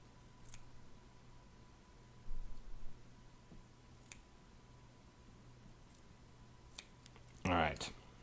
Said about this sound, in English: we got ourselves some Japanese cotton here. Let's go ahead and cut ourselves a strip.